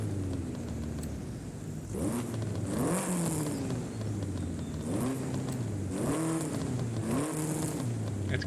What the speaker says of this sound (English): I'm not a huge fan of the supercharger whine